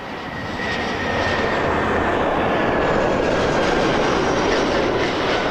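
An Airbus A319 airliner lands at Toronto Pearson Airport, its steady broadband jet engine roar holding loud and close for the whole stretch, with a faint high whine running through it and no voices.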